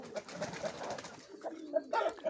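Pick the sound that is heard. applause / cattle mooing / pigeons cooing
pigeons cooing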